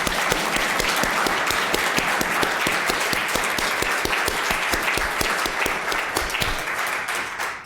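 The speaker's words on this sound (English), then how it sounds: "Let's give a round of applause" Sustained applause from a sizeable crowd at the close of a meeting, dense steady clapping that stays loud throughout and tapers slightly at the very end.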